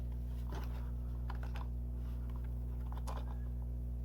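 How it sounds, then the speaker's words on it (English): Paper card pieces for a hot cocoa box card being folded back and forth: soft crinkling and creasing rustles in a few short bursts, close by, over a constant low electrical hum. "now I'm just going to go ahead and fold these back and forth."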